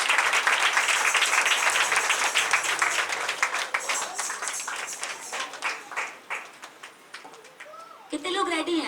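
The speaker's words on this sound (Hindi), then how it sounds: "एक बार जोर से ताली बजाएं।" Worship congregation clapping loudly, a dense burst of applause that thins into scattered claps before swelling again, with voices and cheering mixed in.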